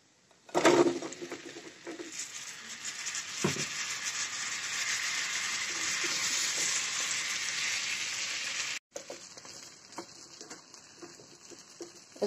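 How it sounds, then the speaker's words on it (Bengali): Spices and lentil dumplings fry in a pan for a sweet-sour plum pickle, giving a loud, steady, close-up sizzle that starts abruptly, holds for about eight seconds, then drops to a softer crackle. "মশলা একটু ভেজে নেব"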